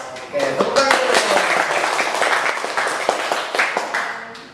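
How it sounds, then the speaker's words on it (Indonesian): Audience applause and clapping at a talk show-style discussion on management studies, a steady wash of many hands lasting several seconds, with cheers or voices mixed in underneath. "tepuk tangan dulu"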